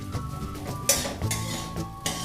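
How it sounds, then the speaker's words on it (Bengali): Egg masala stuffing with turmeric frying and being stirred in a pan, with a spoon scraping and clinking against the metal and a faint sizzle underneath, in a few distinct scrapes with quiet gaps between them. "অল্প হলুদের গুঁড়ো, তিন মিনিট ভেজে ঝুরঝুরে করে নেব।"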